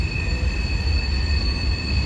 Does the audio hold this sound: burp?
no